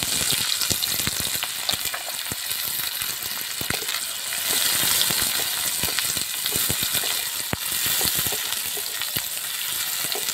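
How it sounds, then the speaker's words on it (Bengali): Onions are dropped into hot oil in a wok and fry with a loud, steady, close sizzle and crackle that lasts throughout, with occasional stirring clinks and no talk. "তেলটা গরম হয়ে গেছে, পেঁয়াজটা দিয়ে দিচ্ছি।"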